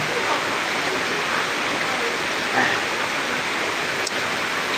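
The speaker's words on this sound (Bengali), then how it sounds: "আমাদের এখানে প্রচুর বৃষ্টি হচ্ছে" Heavy night-time downpour, a dense, even hiss of falling rain that fills the whole stretch steadily and loudly, with no voices.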